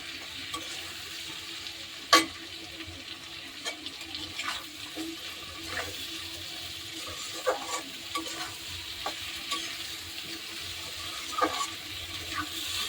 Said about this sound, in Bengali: জিরে ধনের গুঁড়ো দিয়ে দিলাম আদা বাটা দিয়ে দিলাম এবার মশলাটাকে ভালো করে কষিয়ে নেব